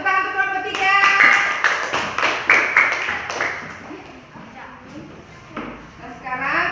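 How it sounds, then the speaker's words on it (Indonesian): Classroom applause for group 3 during a lesson: a few seconds of close, dense clapping from students, mixed with a voice at the start and scattered chatter as it fades. "tepuk tangan untuk kelompok 3"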